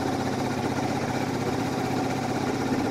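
A Royal Enfield Super Meteor 650 cruiser runs under load in sixth gear, its exhaust giving a steady, dense, even drone close by.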